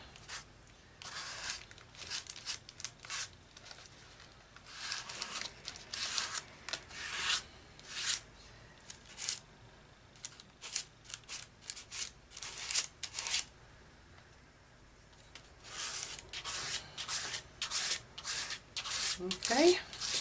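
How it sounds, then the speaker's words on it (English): A palette knife scrapes acrylic paint across a mixed media craft surface in repeated rasping strokes, close and steady with brief pauses, soft overall. "So I just squirt some paint on there and just scrape it on with my palette knife."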